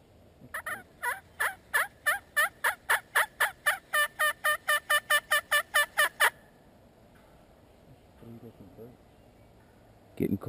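Wild turkey gobbling and clucking outdoors during a hunt, a rapid rhythmic run of about twenty loud, close calls, then a brief fainter burst of clucks after a quiet gap.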